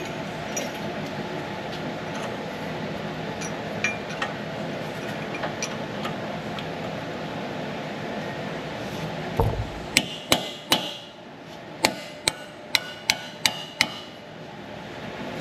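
Two chisels are hammered to drive out a Ford wheel bearing, first faint scraping and light taps, then a series of sharp, loud metallic strikes spaced about half a second apart, up close.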